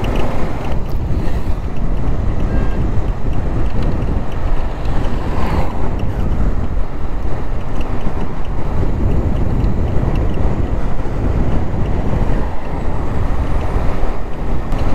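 Boat out on Dal Lake in Srinagar, giving a steady, close wash of water and wind buffeting for the whole stretch, with no voices.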